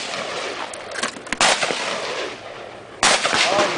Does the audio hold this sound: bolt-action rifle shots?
yes